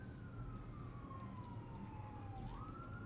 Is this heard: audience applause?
no